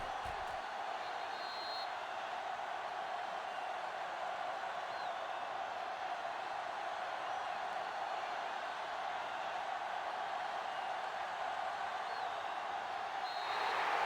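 A steady, distant roar of a video game stadium crowd at a simulated American football game, a broad wash of cheering that holds level throughout and swells slightly at the very end.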